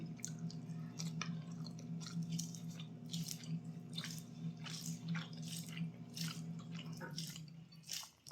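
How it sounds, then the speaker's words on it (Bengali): A person eats rice, chewing close to the microphone with soft wet, squishy repeated bites over a steady low hum. "চালটা নাকি অনেক পুষ্টিকর এই জন্য খাচ্ছি"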